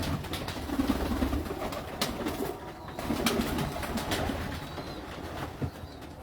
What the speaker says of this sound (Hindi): ये इनको जोड़े वाले कबूतर हैं जी